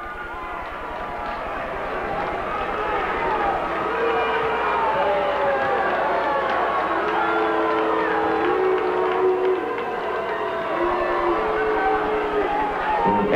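A packed indoor arena crowd at a 1987 Canton Invaders vs Louisville Thunder match roars steadily right after a Louisville goal, a loud sustained cheer with whistle-like tones cutting through.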